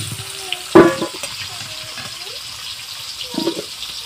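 Potatoes fry in oil in a pan with a low, soft sizzle, broken by a sharp clatter of a utensil against the pan and a few scattered knocks, with no talking.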